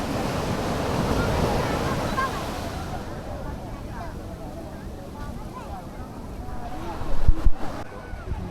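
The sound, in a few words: ocean waves at Alappuzha beach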